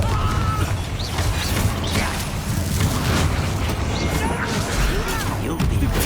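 Confringo blasting spell exploding in Hogwarts Legacy, a dense, loud crashing and rumbling barrage of impacts and debris that continues throughout with no clear pauses.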